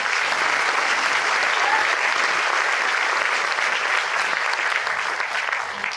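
Steady, dense applause from a seminar audience at a motivational talk, a continuous even wash of clapping that holds at moderate loudness for the whole stretch with no talk on top.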